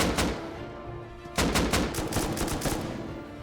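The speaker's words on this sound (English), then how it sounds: "returning fire back to all members of the offliners" Gunfire rattles in the video game Rust during a raid defense, with rapid bursts of shots and a sharp louder volley midway, dense and close over a noisy background.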